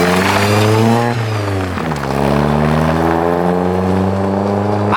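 An Opel Astra's engine running after nearly two years of standing idle, a steady loud rumble close by with a brief dip and rise in revs partway through, continuous and with no talk.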